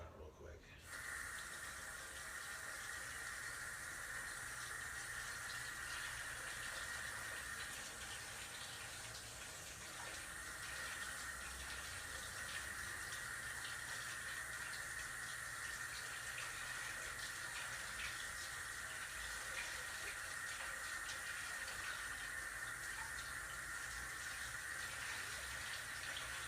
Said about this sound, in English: One of my stove's burners, like I said, need to be washed out, so I'll wash that out real quick.